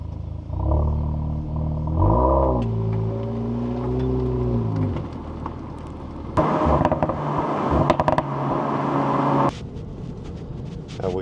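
Cupra Ateca VZ fitted with an Akrapovic exhaust accelerating on a test drive, engine pitch climbing through gear changes, then a rougher, louder stretch with road noise before easing off, heard from inside the car.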